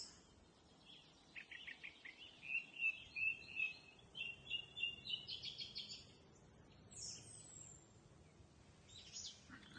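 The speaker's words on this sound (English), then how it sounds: "listen to the evening chorus here for all the different birds, the goldfinches, the blackbirds, the greenfinches, all the different types of birds, the thrushes" A garden evening bird chorus of goldfinches, blackbirds, greenfinches and thrushes, with faint, fairly distant chirps, twittering runs and short song phrases in bursts over quiet background, no talking.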